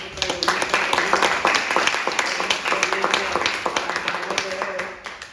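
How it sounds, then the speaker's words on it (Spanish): An audience applauds panelists at a seismic-resistant architecture and structural design panel, a dense wash of clapping from many hands in a room that swells and then fades, with voices talking underneath. "vamos a darle un aplauso a estos 4 periodistas"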